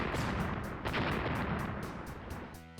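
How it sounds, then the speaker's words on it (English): Rocket and sticky bomb explosions in the mobile game Badland Brawl, a series of rumbling booms and blasts fading slightly toward the end, with rhythmic game audio pulsing in the background. "quickly follow it up with a rocket to hit it in midair"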